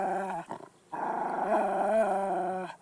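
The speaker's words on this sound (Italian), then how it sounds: "il cane li ringhia ad Eddie" A dog in the video game Silent Hill 2 growls in low, sustained rumbles with a brief pause near the start, close and prominent with no voices over it.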